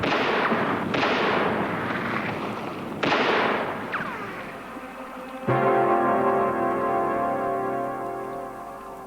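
Volleys of gunfire from soldiers shooting at fleeing people, several sharp bursts with echoing decay one after another, loud and close, in an old swashbuckler pirate film about Captain Blood, with music swelling in near the end.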